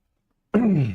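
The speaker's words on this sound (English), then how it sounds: "Sorry, still coughing." A single harsh cough-like throat sound, close and fairly loud, lasting about half a second after silence.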